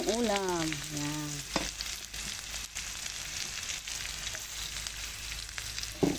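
Onion frying in a pan with browned garlic, a steady close sizzle with a few stirring knocks, as someone speaks briefly at the start over the frying.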